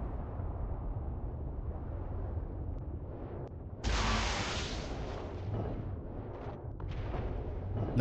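A rocket bursts underwater in the survival game Ark: one sudden, muffled blast midway through, rising over a steady low underwater rumble, followed by a few fainter thuds as it settles.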